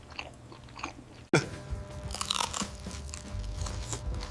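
Someone bites into soup-soaked bread with noodle soup, a sudden close crunch followed by continuous soft chewing and mastication, quiet and intimate with no talking.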